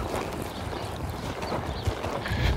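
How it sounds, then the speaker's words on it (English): A horse picks up a canter while jumping bigger fences, rhythmic hoofbeats thudding on the ground amid steady outdoor noise, close and moderately loud, with no talking. "I'll just pick up the canter."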